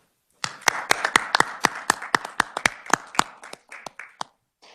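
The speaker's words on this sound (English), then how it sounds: "I'd like to give her a round of applause for the job that she does" A small audience at a state Senate Ways and Means committee hearing claps for a school superintendent: sparse, distinct hand claps in a quick uneven run that thins out and stops.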